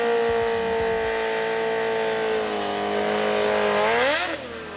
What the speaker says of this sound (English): This burnout's going to be good.